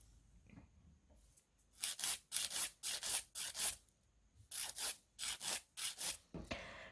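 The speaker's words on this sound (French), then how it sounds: "le plus long du travail c'est de limer son ongle" A nail file rubs back and forth across a gel fingernail in rapid, close, scratchy strokes, grouped into two bursts with a short pause between them, heard alone in a quiet room.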